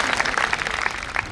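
Audience applause at a Hindi poetry recitation event, a dense steady wash of clapping from a crowd, fairly loud and sustained throughout.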